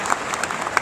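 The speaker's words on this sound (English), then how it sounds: "You're already getting applause," Applause from a summit audience in a large hall, light and somewhat distant, a brief patter of scattered claps with no talk over it.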